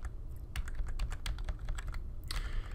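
Computer keyboard keys are pressed repeatedly during audiometry masking software use, a quick series of close, crisp clicks over a low hum.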